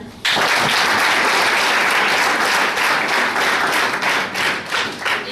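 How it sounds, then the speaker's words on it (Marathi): An audience at a Save Girl Child workshop in Ahmednagar bursts into loud applause, many hands clapping densely and continuously for several seconds before beginning to thin slightly at the end. "मग टाळ्या."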